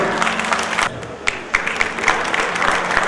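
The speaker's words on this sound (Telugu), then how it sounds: "ఒకసారి చప్పట్లు కొట్టారు దయచేసి" A crowd claps steadily throughout at a Vishwa Brahmin community get-together in Nizamabad Rural, with a short lull partway before the dense, close applause picks up again.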